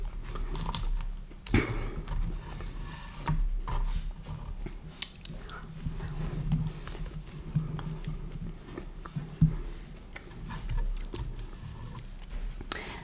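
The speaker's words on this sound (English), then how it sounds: "I'm trying to get my people who like to hear all the chewing." Steady close-up chewing and biting on Domino's pizza with soft crunches and wet smacks, continuous for the whole stretch with no talking.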